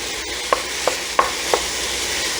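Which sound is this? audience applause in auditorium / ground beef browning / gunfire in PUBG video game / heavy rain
ground beef browning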